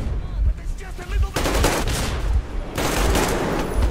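Gunfire and explosions in the video game Metro Exodus during a train heist, dense and loud bursts of rapid shots and booming blasts that run almost continuously, with a brief lull near the start.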